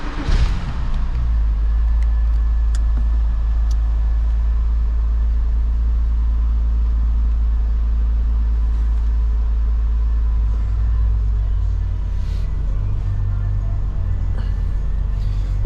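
A Porsche 987.1 Cayman S flat-six engine idles steadily at close range, a deep even rumble that stays constant throughout with a slight shift in tone near the end.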